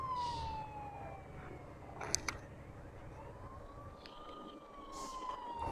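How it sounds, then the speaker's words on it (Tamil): An ambulance siren wails in the Bus Simulator Indonesia driving game, a steady rising and falling tone over a continuous low engine and road rumble, fairly faint in the mix. "பாருங்க ஃப்ரெண்ட்ஸ், ஆம்புலன்ஸ்லாம் போகுது."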